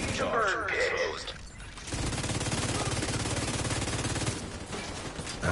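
Rapid automatic gunfire from a Call of Duty match rattles steadily for several seconds after a brief mechanical clatter, dense and close, with a voice talking faintly underneath.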